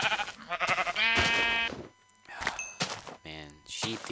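Sheep in the video game Minecraft bleat several times in quick succession, loud and close, with wavering calls breaking up short bursts of other game sounds.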